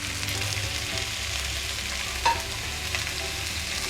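Boiled chickpeas frying with onion, curry leaves and carom seeds in a pan, a steady loud sizzle throughout with a brief stirring scrape near the middle.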